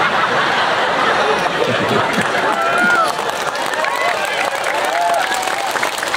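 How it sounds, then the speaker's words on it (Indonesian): An audience at an outdoor sermon in an open field claps loudly and continuously in a dense wash, with scattered crowd chatter and a few voices mixed in. "Mereka udah mulai tepuk tangan."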